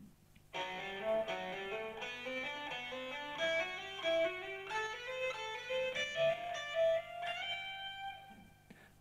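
An electric guitar plays a full rock lick slowly and deliberately, with clear individual notes climbing and repeating in high, ringing runs for several seconds, solo with no talking.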